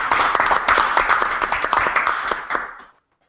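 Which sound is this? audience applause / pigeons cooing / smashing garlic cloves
audience applause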